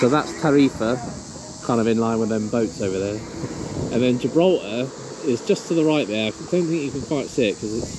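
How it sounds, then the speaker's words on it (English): A steady high cricket buzz carries throughout beneath someone talking continuously in the foreground, outdoors in Morocco. "And you can hear the crickets in the background"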